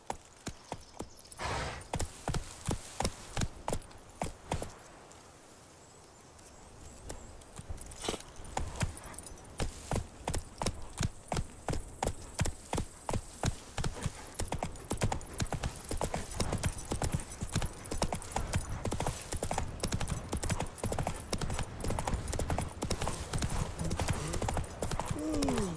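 Horse hooves clip-clop steadily at a walk in The Witcher 3: Wild Hunt, a dense, regular rhythm of close, loud hoofbeats running almost the whole time, briefly pausing near the start, with faint jingling tack alongside.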